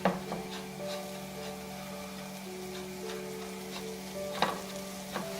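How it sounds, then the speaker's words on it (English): Steady sizzling and crackling of an apple crisp streusel mixture frying in a pan over medium-high heat, with occasional scrapes and clinks of a utensil stirring, no voices. "Simply heat up a frying pan on medium-high heat and add some of the mixture to the pan"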